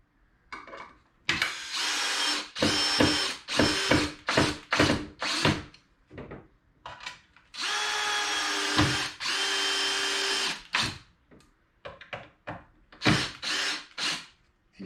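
Power drill driving screws into custom a-arm armor in repeated short, loud bursts, with one longer sustained run in the middle and brief pauses between.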